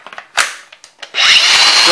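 Makita XAG06Z cordless angle grinder running on a 3-amp battery, a few clicks and handling taps, then the motor spinning up to a loud steady high-pitched whine.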